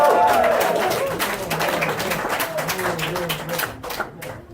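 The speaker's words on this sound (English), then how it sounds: "Give yourself a round of applause." A comedy show audience in Prague breaks into loud, sustained applause, with thick rapid clapping close by throughout and a voice speaking over it.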